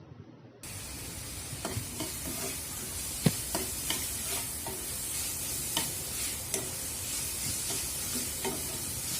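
Chopped tomatoes sizzle and fry in a pan for a tuna and cauliflower curry, with a steady close hiss broken by scattered clicks and scrapes of stirring, no voices.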